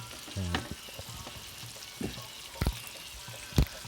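Frogs frying in hot oil in a pan give a soft, steady sizzle, with a few brief clatters and taps at intervals, heard close and fairly quiet, with no talk.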